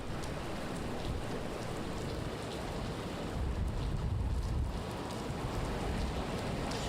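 Strong wind and rain in a severe storm in Georgia, a dense, loud, continuous roar and hiss buffeting the microphone, with no voices.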